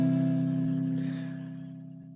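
A single guitar chord rings out and slowly decays, sustained and fairly clear up close, with no talking.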